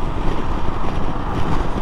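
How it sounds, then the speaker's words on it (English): Loud, continuous wind roar buffets a rider on a Honda CB500X motorcycle on a windy day while passing lorries. It is a dense, broadband rush with slight swells and no speech. "today it's quite windy today. So coming past these lorries, there is a bit of a gust"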